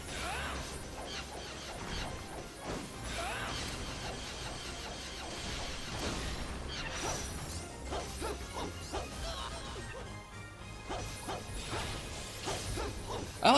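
In the video game Odin Sphere Leifthrasir, a sword smashes into a rock troll's stone nose amid dense game audio, with repeated crashing impacts and whooshes layered over busy music and effects.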